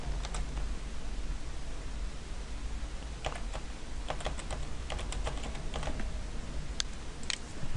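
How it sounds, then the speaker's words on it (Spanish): Keys clatter in short irregular bursts as a new password is typed on a computer keyboard, close and steady against a faint background hiss, with no talking. "Y escribo una contraseña nueva."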